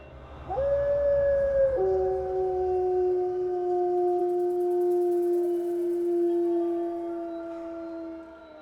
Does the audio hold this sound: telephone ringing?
no